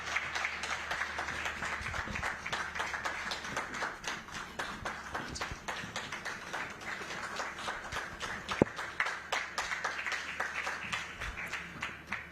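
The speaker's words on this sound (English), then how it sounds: "a big round of applause" Audience applause at a charity givers' gathering event, a steady, dense patter of many hands clapping throughout, moderately distant and fairly quiet, with no talk over it.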